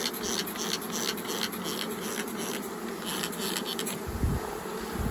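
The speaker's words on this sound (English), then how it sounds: "Also, there are some bees here on the lid." Dense, continuous buzzing of many honeybees swarming close by at a hive, with a soft low rumble of handling near the end.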